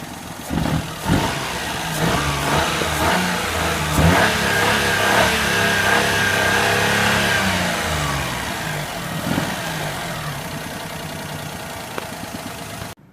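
A car engine revs up and down repeatedly, loud and close, with a steady rumbling idle between the rising whines.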